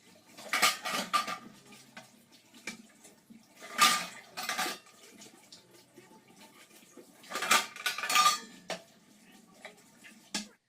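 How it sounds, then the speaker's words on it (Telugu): Small bowls being washed and stacked in a dish stand, with metal bowls clattering and clinking in several loud bursts, water splashing faintly, and quieter handling in between. "చిన్న చిన్న గిన్నెలు అనేవి కడిగేసి గిన్నె స్టాండ్లో పెట్టుకుంటా"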